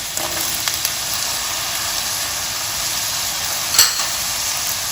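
Carrots sauté in a hot pan with a constant close sizzle and hiss, a few brief stirring scrapes breaking through, and no one talking.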